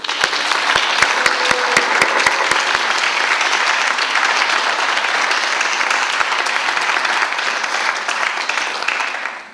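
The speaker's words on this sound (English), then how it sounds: "Could we please have one final round of applause for our award winners?" A live-streamed awards event ends with a final round of applause for the award winners: loud, sustained clapping from a sizable audience, even and unbroken for about ten seconds, with no talk over it.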